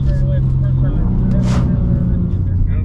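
A 2023 BMW M2 with an 8-speed automatic drifts on a wet skidpad as the driver eases off the throttle, a steady, loud engine drone heard from inside the cabin with a brief hiss of spray midway.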